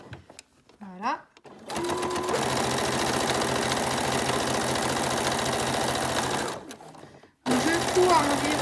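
A sewing machine stitches a jewelry pouch near the zipper, about 5 mm from the edge, with a brief start-up burst, then one steady whirring run of several seconds, close and loud, with a voice speaking before and after.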